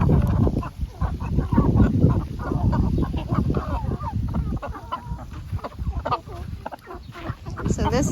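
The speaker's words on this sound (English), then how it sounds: "we hear chickens" Orpington chickens cluck and squawk steadily in a coop, a dense, overlapping chorus of near and far birds with honking calls mixed in, and a person talks briefly over them.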